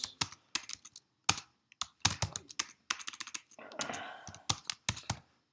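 Someone types on a computer keyboard, with close, crisp key clicks in uneven bursts and short pauses between runs, and no talk over it.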